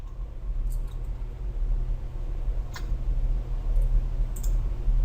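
A computer mouse clicks a few scattered times, sharp brief taps over a low steady background hum, close by with no talking.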